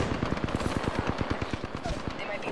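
Rapid automatic gunfire in Apex Legends rattles off in a steady stream of about twenty close, evenly spaced shots, with a voice briefly audible underneath.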